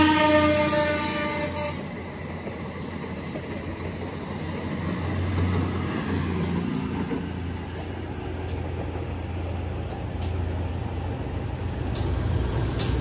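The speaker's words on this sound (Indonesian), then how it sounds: "Ini ada kereta feeder, kereta cepat menuju Padalarang, di belakangnya kereta lokal persis." A feeder train for the high-speed line to Padalarang rumbles steadily past nearby with low mechanical drone and faint horn-like tones at the start, no voices.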